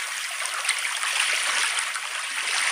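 Calm river water on the St. John River at Queenstown Wharf laps and trickles softly, a steady close-up wash with small splashes and no voices.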